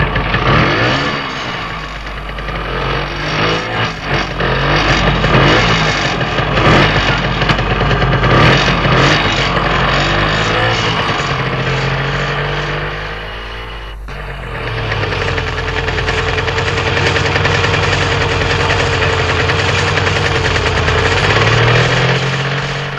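A scooter engine runs steadily and loudly with a rough, knocking low drone, briefly dipping around the midpoint before revving back up, close by with no talk over it.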